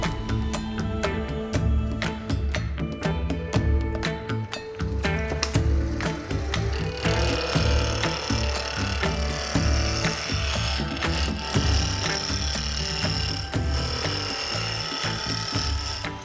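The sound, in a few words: wood lathe turning a wooden flask nozzle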